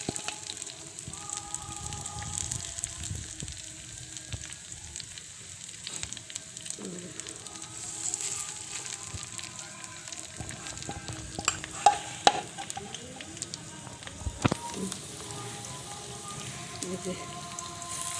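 Pakoras frying in a pan of oil during an afternoon snack preparation, a steady close sizzle and bubbling with occasional stirring clatter and sharper knocks near the middle; faint voices murmur underneath.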